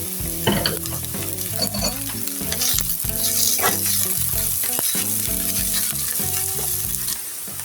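Garlic and onion frying lightly in oil in a pan, a steady close sizzle with stirring scrapes and clinks, over a background of music.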